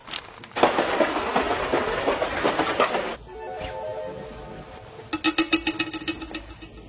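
A passenger train runs on rails with a rhythmic clatter of wheels over the track, loud at first, then quieter, followed by a burst of sharp metallic clicks.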